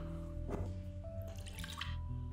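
Gin trickles and drips into a glass in the Tails Noir video game, a faint liquid pour under a low humming music bed.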